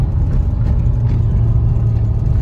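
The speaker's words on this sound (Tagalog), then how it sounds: "Paakyat kasi ito kaya nahihirapan ang makina." A car engine strains while driving uphill, a loud close low drone that holds steady throughout.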